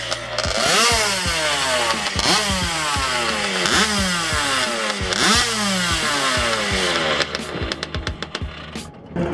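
A loud 50cc racing moped engine revs hard at TT Circuit Assen, in repeated sharp climbing blips that fall back between throttle bursts, close and alone, with a rougher stuttering idle near the end.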